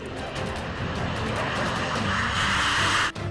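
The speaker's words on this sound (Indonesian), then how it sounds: "Pesawat ini meluncur dengan raungan yang sudah tidak asing lagi sebagai ciri khas kekuatan udara Amerika Serikat" An F-16 fighter jet roars past, a dense, loud, continuous engine rumble with a rising hiss that swells toward the end before cutting off abruptly.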